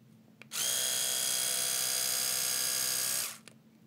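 An electric toothbrush spins with a steady, close, high-pitched buzz that starts abruptly, holds evenly for nearly three seconds and cuts off sharply, with no other sound around it.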